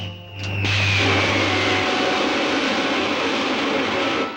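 Rocket ship jets firing in a 1952 science-fiction film serial: a steady, loud roaring rush of engine noise that swells up fast after a brief low hum and holds on continuously to the end.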